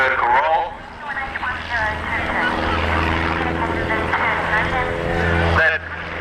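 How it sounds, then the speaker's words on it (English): An aerobatic propeller aeroplane performs at an air show at Matamata Airfield, its engine buzzing and droning at a fair distance, shifting in pitch through a manoeuvre, while voices talk over it. "You go up and fly in that aeroplane and do the routine"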